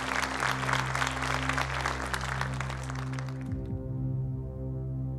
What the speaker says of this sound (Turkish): Alkışlarınız Ömer Çalık için.